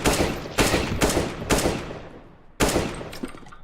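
Single gunshots in Counter-Strike: Global Offensive, five sharp loud reports spaced about half a second to a second apart, each with a short decaying echo, alone without talk.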